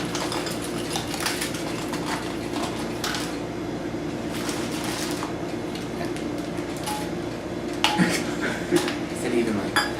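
Butterscotch chips clatter and scrape as they are spread across a baking pan with light clinks of utensils, close and moderate in level, with people talking over the kitchen sounds.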